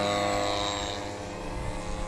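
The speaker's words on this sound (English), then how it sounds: "Multiple planes in the air." RC model airplanes, including a Dynam Cessna 188 crop duster, fly overhead at a field, their small electric motors making a droning, shifting buzz that fades slightly midway, with no voices.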